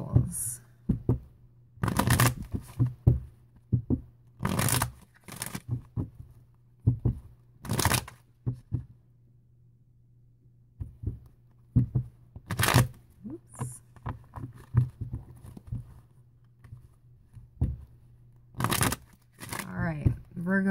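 Tarot cards are shuffled in repeated short riffling bursts, close and crisp, with a person talking softly between the bursts.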